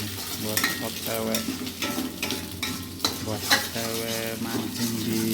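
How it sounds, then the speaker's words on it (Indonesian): Nasi goreng frying in a pan at dawn, a loud continuous sizzle broken by repeated scraping strokes of a spatula stirring the rice, close up and busy throughout. "lagi masak nasi goreng buat OTW"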